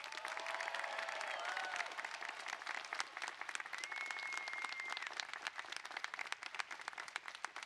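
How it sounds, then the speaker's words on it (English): Audience at a college of engineering commencement ceremony applauding an honorary degree recipient, a sustained dense crackle of many hands clapping in a large venue, steady and fairly distant, with a few faint voices within it. "Big round of applause, please."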